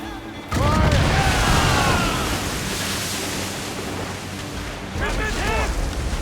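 Naval cannons fire from a ship in Assassin's Creed Rogue: a heavy boom opens a long rumbling roar over wind and sea, then a second burst of blasts follows near the end.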